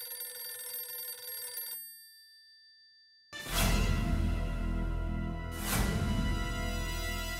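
A telephone rings in an office scene as an electronic bell tone with steady overtones, cutting off after a couple of seconds, followed by a loud broadband burst and a second surge.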